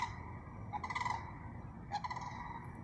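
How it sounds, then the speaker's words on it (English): A loud bird calls twice outdoors, each call a short burst of bright, strident notes about a second apart, close and standing out over a quiet background hum. "That is a loud bird. Can y'all hear that bird?"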